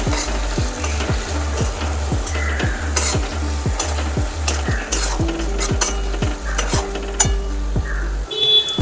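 Asafoetida and red chili powder fry in hot oil and are stirred briskly, with a steady loud sizzle and repeated rhythmic scraping strokes of a spoon against the pan throughout.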